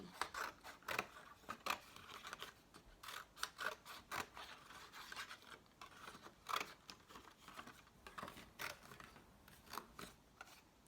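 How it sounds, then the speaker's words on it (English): Scissors cutting paper for an Earth Day upcycled craft, a quick series of crisp snips and rustles at close range, irregular in rhythm and fairly quiet, with no talking. "So I cut a long rectangle out so I can put a tree in the sky."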